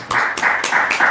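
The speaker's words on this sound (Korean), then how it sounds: "하나님 앞에 감사의 박수 올려드리겠습니다" A church congregation claps together at a Sunday worship service, giving thanks to God; brisk, dense clapping with a few swelling bursts, fairly close and without talk.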